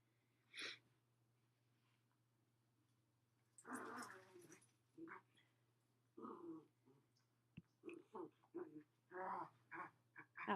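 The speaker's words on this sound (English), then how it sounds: "Sorry about my dogs." Small dogs whimpering and snuffling indoors, quiet high whines and short nasal huffs coming in scattered bursts over a low steady hum, fairly close but faint.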